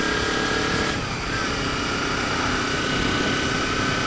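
Kawasaki Ninja 250 motorcycle fitted with a Pipewerx exhaust, baffle in, running on the road; a steady high-revving engine drone with wind noise, constant and fairly loud.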